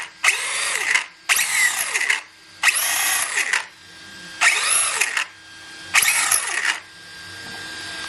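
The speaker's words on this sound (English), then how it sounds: "It almost feels like it's coming from inside the gearbox." A Kyosho Optima Mid RC car runs in short bursts, its noisy gearbox giving loud, close, high-pitched whining revs that rise and fall in five or six separate pulses with brief pauses between them.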